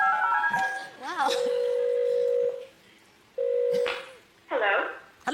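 Telephone keypad dialing on a phone: a run of steady touch-tone beeps and warbling tones, loud and close, with brief pauses between.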